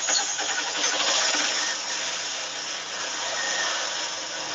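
A motorcycle engine starts and runs loud and steady close by after a push-button or kick start, with a dense broadband roar and no talk over it.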